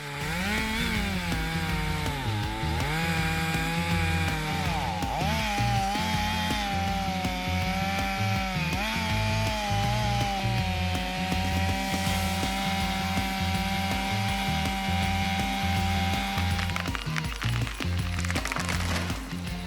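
A large chainsaw run by an experienced retired woodcutter saws through a big tree trunk wider than its bar, engine roaring loud and continuous with steady rhythmic pulsing and shifts in pitch as the chain bites the wood.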